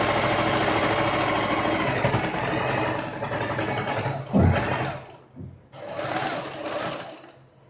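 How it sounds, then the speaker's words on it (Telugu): Sewing machine stitching a free-size maxi dress: a rapid, steady mechanical chatter close by that pauses and restarts briefly near the end, with no talk. "అలాగే ఈ పక్క కూడా స్టిచ్ చేసేస్తున్నానండి."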